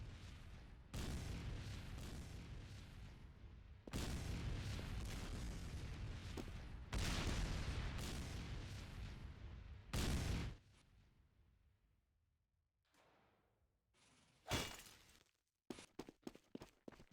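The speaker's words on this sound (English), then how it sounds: "Constant rocket noise." Rockets in Team Fortress 2 explode in a deathrun map playtest as long, loud roaring blasts that decay over several seconds, followed by quieter gaps and a cluster of sharp, closely spaced bangs at the end.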